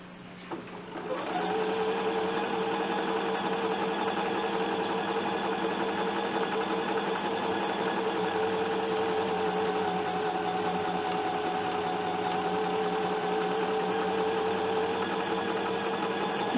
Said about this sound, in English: when you're sewing strips together